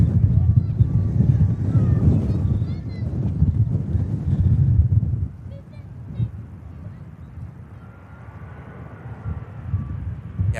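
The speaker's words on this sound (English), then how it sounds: "Now number one, with this EasyJet touching down." An EasyJet A320 airliner touches down at Manchester Airport, a loud low rumbling roar with wind buffeting on the microphone that eases after a few seconds into a steadier, quieter engine hum.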